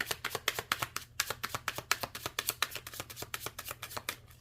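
Tarot cards being shuffled by hand, a close, steady run of quick crisp riffling slaps in an even rhythm, heard alone without talk.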